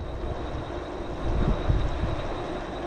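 Jetson Bolt Pro electric bike cruising on throttle alone, a steady broadband whoosh of wind and tire rumble with a faint motor whine, swelling slightly midway, no talking.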